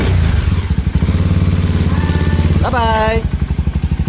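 A small motorcycle on a touring road in Sulawesi, Indonesia, chugs at close range with a steady throbbing beat, revs briefly, then pulls away. A voice speaks briefly over the engine.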